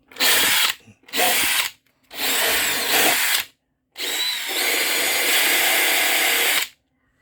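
A drill fitted with a bathroom tile cleaning brush adapter whirs in four close bursts, three short ones and a final longer run of about two and a half seconds, each separated by brief silence, with no talk.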